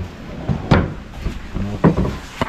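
Handling a wooden cabinet door while it is being replaced during a furniture installation: a few close, hollow wooden thumps and knocks spaced irregularly over low room noise.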